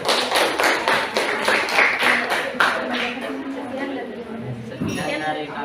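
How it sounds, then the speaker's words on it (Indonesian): Classroom applause after a student group's experiment presentation, a burst of many hands clapping in a rapid uneven patter that holds steady for several seconds, with voices talking over it near the end. "Kasih aplaus dulu."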